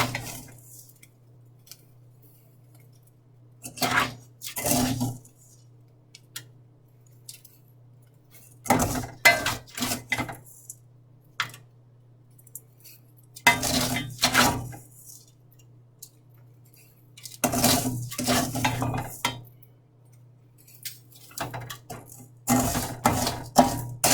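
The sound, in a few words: heated salt being put into a bag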